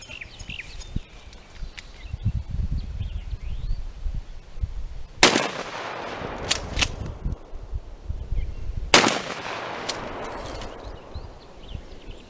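Two sharp, loud shotgun blasts about four seconds apart, fired at targets from 25 yards during a barrel length comparison, with clicking and handling noise between the shots.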